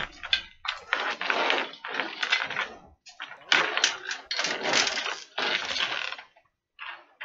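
A custom PC water-cooling reservoir, nearly full with almost no air inside, is shaken hard so loose spare screws rattle and clatter in bursts of jangling metal, with brief pauses between shakes.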